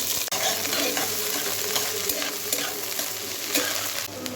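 Bay leaves, garam masala and thickly cut onion frying in oil for a dried fish dish, a loud, continuous close sizzle with stirring scrapes and one sharp knock near the start, no talking.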